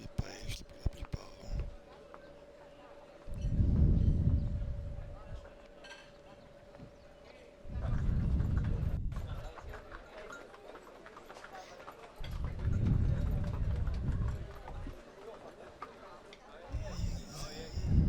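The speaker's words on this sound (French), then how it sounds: "Vous voyez ici les ânes chargés de bagages." Repeated bursts of hoof clip-clops from passing baggage-laden donkeys, arriving in several waves over a faint hum, with quiet voices in between.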